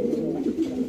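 Fancy pigeons coo at a pigeon farm in Bangladesh, low throaty rolling calls overlapping close by, steady and moderately loud with no speech.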